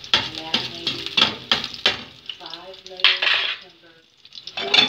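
Garlic sautés in cooking oil in a pan, heard as close, rhythmic stirring and scraping strokes with a light sizzle between them and a brief lull near the end.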